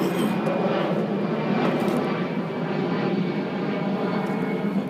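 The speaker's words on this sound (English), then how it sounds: "Southwest Airlines just left the neighborhood" A Southwest Airlines jet passes over a residential neighborhood, its steady broadband engine roar loud and continuous throughout, with no talk.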